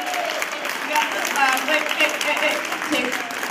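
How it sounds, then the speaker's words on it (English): Audience applause for the performers at the close of a narrated stage show, a steady dense wash of clapping across the whole stretch with voices mixed in. "Would you give them a big round of applause?"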